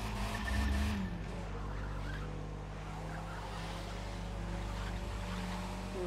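An Abarth car drives on a track, heard as a steady low engine rumble with road and wind noise throughout, fairly constant and moderately close, with no talk.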